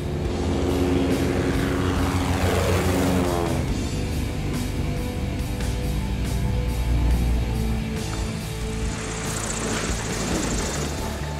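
A propeller airplane at a remote landing strip in Alaska's Tok Valley, its engine droning loudly and steadily, with the pitch sweeping as it passes by and the roar shifting again near the end.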